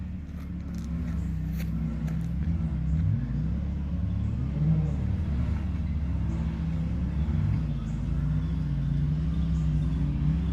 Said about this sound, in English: but they're just cruising up here.